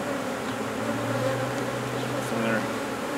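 Honeybees buzzing around mating nuc colonies, a steady close insect hum running unbroken through the whole stretch with no voices over it.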